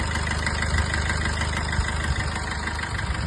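A 2018 Maruti Suzuki Brezza engine idles steadily, a continuous low rumble and hum that holds level throughout with no speech over it.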